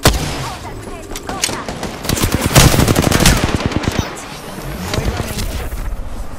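Rapid automatic gunfire crackles in dense bursts during an Apex Legends match, peaking in the middle with fast machine-gun volleys while a character voice speaks over the action.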